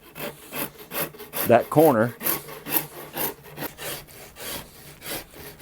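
Hand-carving facets on a rosewood guitar neck for a Telecaster-style build, a close run of rhythmic rasping and filing strokes, with a brief spoken remark partway through.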